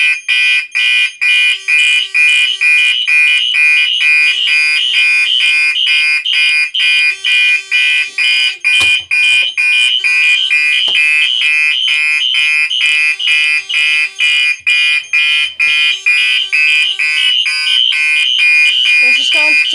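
Loud, piercing fire alarm sounder pulsing in a fast steady rhythm on a Halon suppression system counting down to release, with a low voice briefly audible beneath it.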